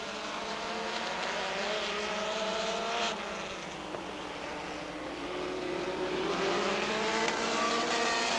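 Race cars, including a car running on only two or three cylinders, lap Rockford Speedway in a 1999 event. A steady engine drone carries from mid-distance, swelling and fading slightly as the field circles, with no voices.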